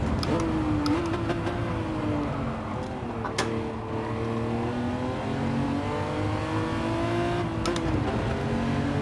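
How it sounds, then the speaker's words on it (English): Ferrari Testarossa in Gran Turismo 7 on the Nürburgring: a steady engine drone whose pitch dips and climbs as it shifts down under braking, with a couple of sharp mechanical clicks, loud and close throughout. "I downshifted there and pumped the brake a bit"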